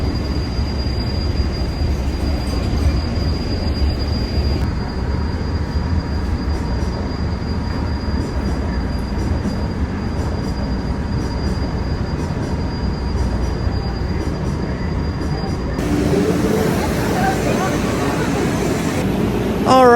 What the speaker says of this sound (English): There's a train at the tail tracks.